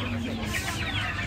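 Goose goslings around ten days old at a busy pet and poultry market, giving a dense, continuous chatter of soft peeps and clucking calls over steady background noise.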